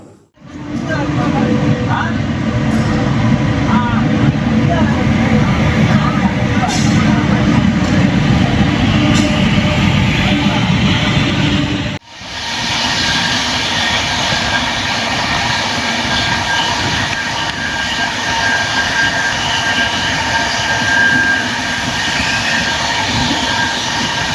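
Inside the Thiruvananthapuram to Chennai Superfast Mail Express, a loud, steady rumble and rattle of the running train fills the whole clip, briefly dipping about halfway before the roar resumes.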